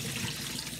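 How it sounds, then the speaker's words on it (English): Tap water runs steadily into a kitchen sink as dish soap is rinsed away, a continuous close splashing rush for under a second. "We're just getting all the dish soap and all that off."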